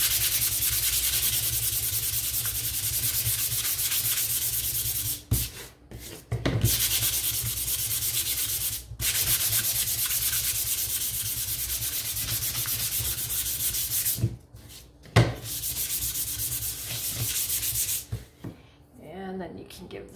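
Wood pieces for a farmhouse windmill shelf sitter are hand-sanded in long, continuous close-up strokes, a loud steady rasping broken by a few brief pauses.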